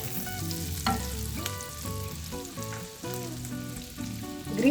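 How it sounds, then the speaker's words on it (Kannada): Garlic pieces fry in butter in a pan for a corn palak sandwich, giving a steady close sizzle with occasional pops, set against a tonal musical backdrop. "ಇದು ಬೆಳ್ಳುಳ್ಳಿ ಪೀಸಸ್ಸು ಸ್ವಲ್ಪ ಫ್ರೈ ಮಾಡ್ಕೊಳ್ಳೋಣ"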